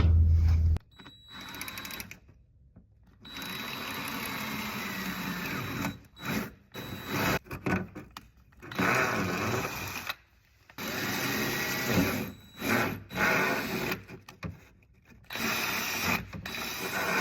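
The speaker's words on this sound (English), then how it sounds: "So I'm able to just use my drill, turn 90 degrees, and then just drill like that," A right angle drill attachment on a cordless drill bores two holes for a C8 Corvette Stingray rear diffuser, whirring in several bursts with short pauses between them, fairly close and steady.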